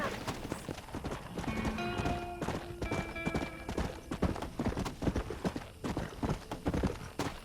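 In the video game Red Dead Redemption, steady clip-clop of horse hooves trotting at an even pace, with a faint musical tone and a brief whinny in the background.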